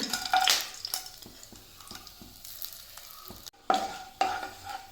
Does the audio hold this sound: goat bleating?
no